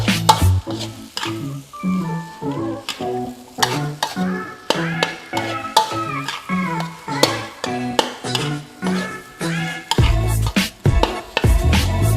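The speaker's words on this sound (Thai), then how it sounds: "ผัดอีกรอบค่ะจนส่วนผสมเข้ากันดีค่ะ" Egg fried rice with sugar and seasoning is stir-fried in a pan, with rhythmic scraping stirs at a steady pace over a continuous sizzle, close and with no talking.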